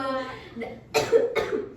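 A person coughs twice in quick succession, close and fairly loud, right after a bit of voiced sound.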